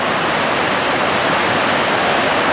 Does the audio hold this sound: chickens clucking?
no